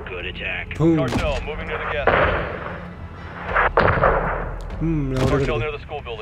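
Gunfire and artillery in the video game Modern Warfare 2 (2022): booming blasts and crackling shots rumble through the middle, with someone talking over the start and the end.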